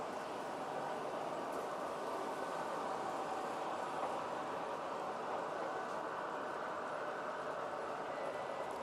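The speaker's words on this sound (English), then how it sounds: "Pennsylvania E8s. Pulling south wind passenger cars by Lionel." A long Lionel model train, with Pennsylvania E8 locomotives pulling Southwind passenger cars, rolls steadily along the track with a constant, even rumble and rattle that neither rises nor fades.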